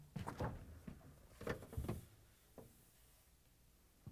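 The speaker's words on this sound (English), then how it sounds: "Open the fresh food door." Whirlpool, KitchenAid or Maytag refrigerator fresh food door being opened, giving a few soft thunks and rattles near the start, then quiet room tone.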